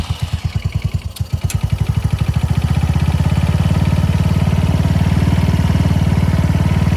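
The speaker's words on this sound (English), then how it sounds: "Now that we have the EGR valve blocked off, starts up nice and easy, whole lot quieter." An American Sportworks Scorpion RT with a 150cc engine and its EGR valve blocked off starts and settles into an idle. Close, loud, rapid even pulses that quicken and steady into a smooth continuous putter.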